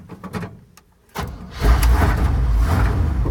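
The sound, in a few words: car engine cold start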